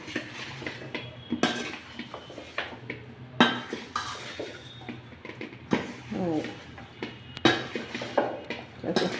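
A roasted, powdered fenugreek and mustard spice mix being stirred in a bowl for cauliflower pickle: irregular close scrapes and clinks of a spoon against the bowl, steady for several seconds.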